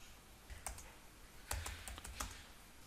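A few quiet, close keystrokes on a computer keyboard, a Ctrl V then Enter, as short separate clicks spread over about three seconds.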